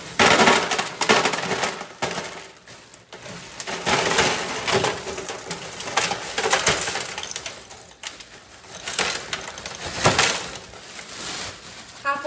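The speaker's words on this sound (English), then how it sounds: "Go ahead and do a small layer of ice." Ice is poured into an ice bucket in a small layer, a loose crunchy rattling and clattering of cubes that swells and fades in several waves, close and fairly loud.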